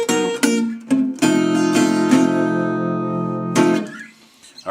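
Acoustic Delta blues guitar introduction, a few plucked notes then a sustained ringing chord and a final strum, played close and alone.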